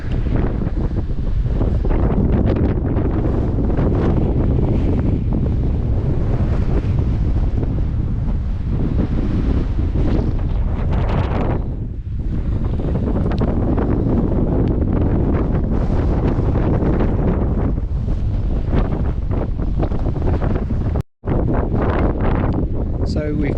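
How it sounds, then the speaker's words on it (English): Strong, steady wind buffeting the microphone on a fell hike above Windermere, a continuous roaring rush that swells and dips with one brief dropout near the end. "It's going to be windy."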